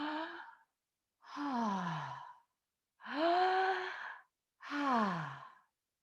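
Four slow, voiced breaths with an open "ha" sound, in and out, each about a second long and separated by silence, close and fairly soft.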